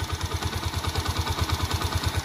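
A 100cc motorcycle engine in fresh condition, an RKS Keeway model, idles steadily with a fast, even low-pitched putter and light mechanical clatter, close and continuous, with no voices.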